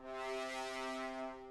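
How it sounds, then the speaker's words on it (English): A distorted trumpet preset from a Serum synth sound bank plays one sustained, buzzy brass-like note with rich harmonics, held steadily for about a second and a half with no talk. "it's just like a distorted trumpet"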